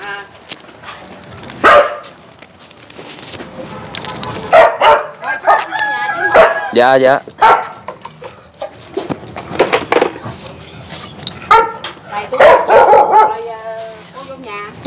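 A dog being fed barks in repeated sharp bursts mixed with whimpers, close and loud, while people talk over and between the barks.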